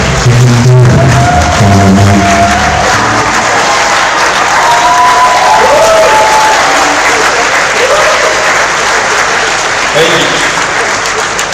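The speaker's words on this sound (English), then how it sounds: "Ladies and gentlemen, with the round of applause and standing ovation, please" A theatre-sized audience at a 2025 Rotary district leadership assembly bursts into sustained applause and a standing ovation, a dense, steady roar of clapping that runs the full length. Some voices and brief tones sound near the start.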